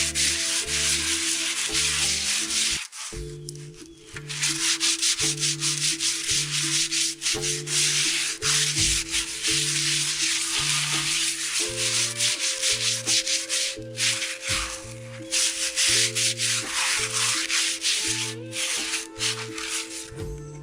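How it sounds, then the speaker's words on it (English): Close, steady rubbing of sandpaper on a garden pot being restored, in a brisk back-and-forth rhythm, continuing for a long stretch with only a couple of brief pauses. "The final stage, the sandpaper. I've already started sanding this."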